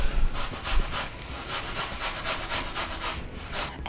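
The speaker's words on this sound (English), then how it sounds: "we're gonna use a small size of this grater. Let's shred the beets." Raw beets shredded on the small holes of a hand grater, heard as a close, continuous run of rapid rasping strokes with a steady rhythm and no voices.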